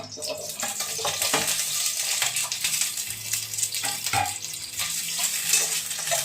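Peas and potatoes roasting in a pan, giving a steady, close frying sizzle broken by scraping stirs, with a voice briefly speaking over it.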